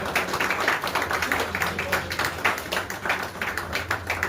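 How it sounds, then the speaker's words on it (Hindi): Loud applause from an audience at a company's annual meeting in Srinagar, Kashmir, a dense continuous patter of many hands clapping close by, steady throughout. "जोरदार तालियां।"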